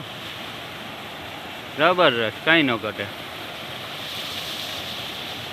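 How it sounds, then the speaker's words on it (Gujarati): Water from a cracked Narmada canal line falls in a steady, loud rushing wash that continues unbroken. Someone speaks briefly over it. "ઓહો અહીંયા તો જો પાણી પડે"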